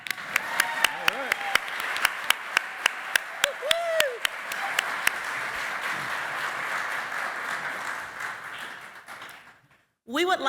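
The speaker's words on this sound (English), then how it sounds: "Now you can applaud." An audience at a Juneteenth community event applauds, a dense wash of clapping with sharp individual claps standing out, sustained for several seconds before fading, and a voice breaks in at the end.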